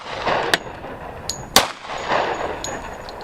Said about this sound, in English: 45 ACP says kaboom.